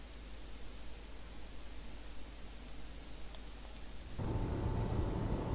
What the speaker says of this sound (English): Oh, I can hear air.